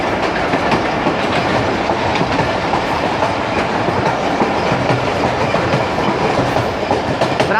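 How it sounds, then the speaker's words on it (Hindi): A train rolls along a branch line between Lahore and Malakwal on a cloudy day, its wheels clattering steadily on the track in a continuous, loud rumble with no voices. "ब्रांच लाइन पे ट्रैक साउंड हमेशा यूनिक होता है"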